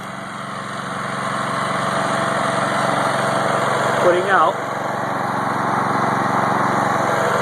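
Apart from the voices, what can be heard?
small DIY generator engine running under load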